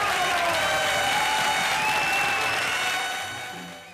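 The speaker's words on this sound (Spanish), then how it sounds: "¡Fuertes aplausos!" Television studio audience applauding and cheering at a 1984 New Year's special, a loud continuous wash of clapping with a rising voice-like tone above it, fading toward the end.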